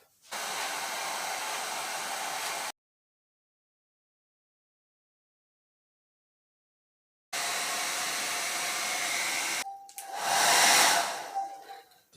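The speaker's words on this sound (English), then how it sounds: "First I'm gonna blow dry her fully dry." A hair dryer blows on a wig in two close, steady roaring bursts separated by a silent pause, the second run ending in a louder, shifting gust as the airflow changes.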